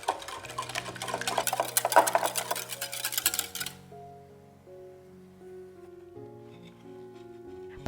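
Sugar and honey being stirred into an egg mixture for dorayaki pancake batter: a steady, close scraping and swishing for about four seconds, then it stops and only soft music remains.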